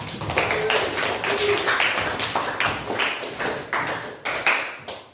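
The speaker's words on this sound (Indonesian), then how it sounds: "Aplaus untuk kelompok" A classroom group gets a round of clapping from students, a dense burst of many hands close by that rolls on for several seconds with uneven sharp claps and fades at the end.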